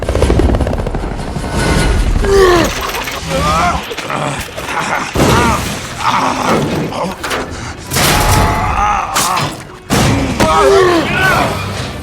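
In a film action scene, a helicopter roars loudly as it goes down and crashes, amid heavy thuds, bursts of gunfire and voices shouting over the din.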